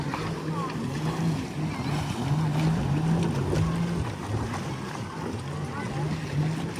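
Motorboat engine humming with a wavering drone amid wind and water noise off a beach at Phi Phi Island, Thailand, steady and fairly close, with people talking faintly underneath.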